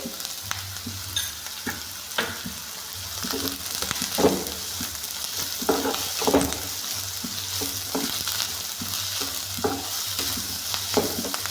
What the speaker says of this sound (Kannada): ನೀವು ಇದಕ್ಕೆ ಸ್ವಲ್ಪ ಉಪ್ಪು ಹಾಕಿ ಅವಾಗ ಈರುಳ್ಳಿ ಬೇಗ ಫ್ರೈ ಆಗುತ್ತೆ